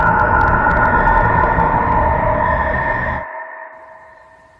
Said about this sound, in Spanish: Estos beeps que estoy escuchando son clave Morse.